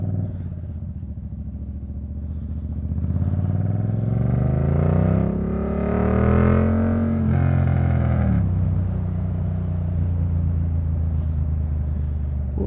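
Gen 1 Yamaha MT-07 motorcycle being ridden, its engine droning close and loud, the pitch climbing and falling as the rider works the throttle.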